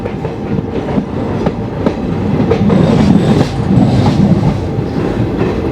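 A passenger train on an overnight run out of Kolkata rumbles loudly and steadily along the rails, with rhythmic clickety-clack wheel beats throughout and no voices.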